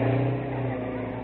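Car engine revving and accelerating in an old-time radio drama chase with state police, a steady mid-pitched motor drone that eases slightly after the initial surge, close and fairly loud with no talk over it.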